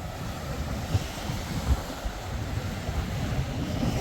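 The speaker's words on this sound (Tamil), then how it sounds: "அலைகளை பாருங்கள் சிலு சிலுன்னு இருக்குது" Sea waves wash and surge at a harbour under gusty wind buffeting the microphone, a continuous rumbling roar with occasional louder swells.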